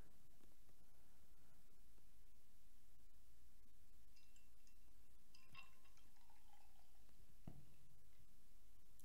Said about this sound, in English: let's get this one poured right into the glass here